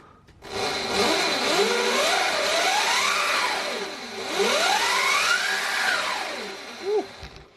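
A running motor with a whirring whine that sweeps up and down in pitch twice over a constant rushing hum, close and fairly loud.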